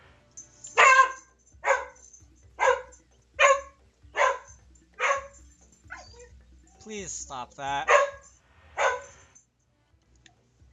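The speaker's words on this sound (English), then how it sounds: "the dog starts barking on my recording" A dog barks in a steady series of about eight sharp, loud barks, close by, with a brief whimpering yelp partway through and a person speaking over the barking.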